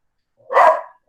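A single sharp dog bark rings out clearly and close, loud against an otherwise silent background.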